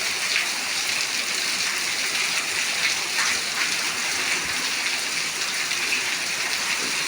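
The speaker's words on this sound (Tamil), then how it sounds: "மழை பாருங்க" Steady rain falls in an even, close hiss, a constant wash of patter that neither rises nor fades, with no voices over it.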